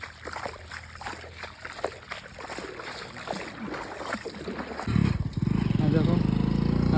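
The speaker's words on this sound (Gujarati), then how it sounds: "બાઈક આવે પાણી ઉડાડશે" A motorcycle rides through rain floodwater on a flooded road, its engine rising and water splashing near the end, after a stretch of sloshing water and someone talking over it.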